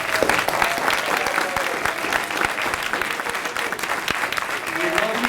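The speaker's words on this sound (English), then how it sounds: "Could I ask, please, for a special round of applause for Rachel Schaevitz?" An awards-preview event audience breaks into a lively round of applause, dense, close clapping that holds steady throughout, with faint voices and cheers mixed underneath.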